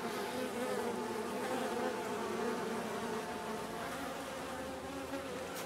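Bees swarming inside a loudspeaker box, a dense continuous buzzing hum at steady volume from close by, with no talking.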